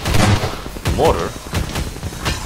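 Mortar fire in the Half-Life strategy game Lambda Wars: a string of heavy booming blasts and thuds at irregular intervals, loud and near, layered over busy battle noise with voices mixed in.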